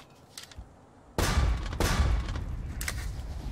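Naval artillery bombardment in a war video game, with distant pops before two heavy, close blasts that roll into sustained rumbling gunfire, and a further shot near the end.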